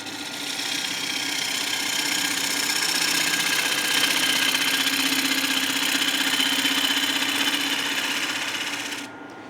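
Wood lathe turning a flame bowl at about 950 RPM, a steady whirring hum with a faint scraping hiss, continuous and fairly near, cutting off abruptly just before the end.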